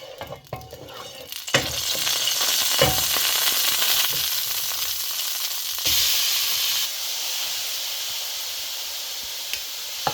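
Ghee sizzles and hisses steadily in a pan while carrot halwa is being cooked, a continuous frying crackle with occasional stirring scrapes, close and fairly loud with no talking.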